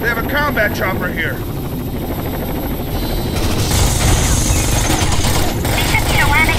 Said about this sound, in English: They have a combat chopper here.